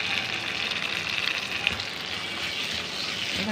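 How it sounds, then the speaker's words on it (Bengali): Spice masala with chili powder and cumin powder sizzles steadily in a hot pan during cooking of a taro stem and beef curry, a continuous close frying hiss with faint stirring and no talking. "ভালো করে মশলাটাকে কষিয়ে নেবো"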